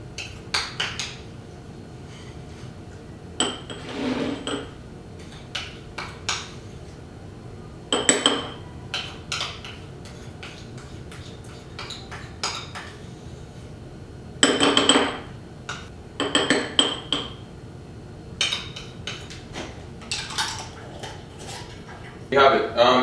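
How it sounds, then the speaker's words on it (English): A spoon is set into a mini mason jar of homemade toothpaste, with scattered glassy clinks and clatters of utensils and jars in a kitchen, some sharp knocks, between stretches of quieter handling. "just gonna grab a spoon and put it in"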